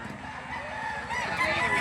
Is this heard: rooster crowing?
yes